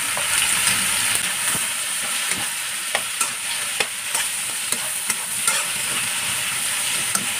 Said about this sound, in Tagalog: ilagay na natin yung kidney beans o patani sa Tagalog